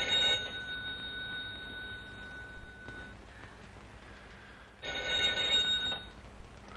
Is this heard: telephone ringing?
yes